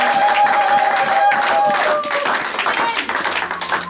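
Loud cheering and applause fill a church as the congregation acclaims together, many hands clapping under raised voices and held tones, easing somewhat toward the end.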